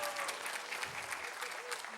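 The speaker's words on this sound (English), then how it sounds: "Can we get a round of applause?" A brief burst of audience applause at a live speedrunning marathon event, steady clapping from many hands filling the short moment.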